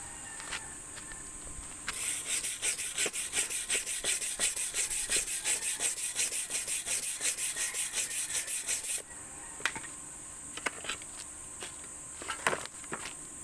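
Slag being chipped and scraped off a stainless steel weld laid with a 2 mm stainless rod at 21 amps, a dense run of rapid scratchy taps for about seven seconds, then sparser clicks and scrapes, loud and close with no talking.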